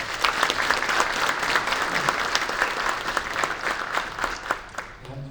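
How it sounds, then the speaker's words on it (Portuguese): Warm, continuous applause from an audience at a solar energy business conference panel, dense clapping with crisp individual claps standing out, steady from start to finish with little talk. "Eu queria pedir uma salva de palmas, por gentileza."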